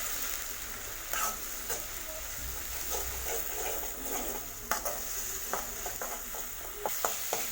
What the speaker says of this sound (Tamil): ஆட் பண்ணிவிட்டு அதை இதோடு சேர்த்து வதக்கி விட்டுக்கலாம்.